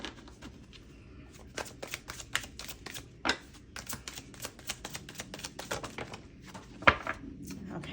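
Tarot deck being shuffled by hand, a run of crisp riffling card slaps and flicks in irregular bursts, close and fairly quiet with no talk.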